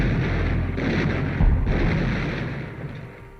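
Naval gunfire from battleships trading shots, a deep booming blast with rumbling low-end echo that swells, peaks in a heavy thud, then slowly fades away, heard alone without voices.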